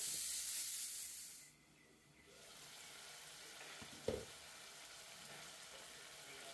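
Tomato sautés in a pan for a Bengali-style egg curry, a faint soft sizzle and hiss that dips briefly, then returns with a single small clatter.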